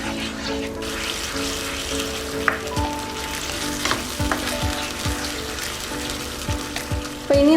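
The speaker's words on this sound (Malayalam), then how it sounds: "ഇനി ഇതിലേക്ക് 1/2 കപ്പ് തൈര് ഒഴിച്ചു കൊടുക്കാം. അപ്പോൾ തൈര് ഒഴിച്ചിട്ട് നന്നായിട്ട് മിക്സ് ചെയ്ത് കൊടുക്കുക" Yogurt stirred into a sizzling tomato masala for an okra (bhindi) curry: steady frying crackle with repeated scraping stir strokes of a spoon against the pan, close and fairly loud, with no talking.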